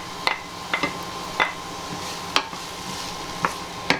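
Chopped ginger being stirred into a pan with onions for beef samosas: a few sharp, separate scrapes and taps of a utensil against the pan, spaced roughly every second, over a soft, steady sizzle.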